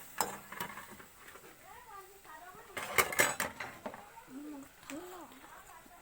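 Boiled potatoes stirred in a cooking pan with egg, spoon scraping and clinking against the metal in scattered bursts, under steady nearby talk.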